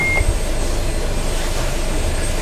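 A single short electronic beep sounds from the engine start panel of a Beneteau Oceanis 48 sailboat, brief and thin over a loud, steady diesel engine rumble.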